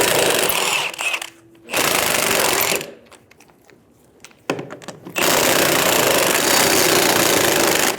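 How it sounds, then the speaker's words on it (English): A 19mm socket on a power tool spins off the rear wheel lug nuts of a 2000-2007 Ford Focus. Three loud, close, buzzing rattles are separated by quieter gaps, and the last run is the longest. "Using a 19mm socket, remove the 4 lug nuts."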